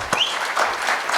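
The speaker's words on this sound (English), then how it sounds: "so a huge round of applause for them" Brief burst of audience applause at a roundtable event, dense clapping from a crowd lasting about a second, with a faint voice in the background.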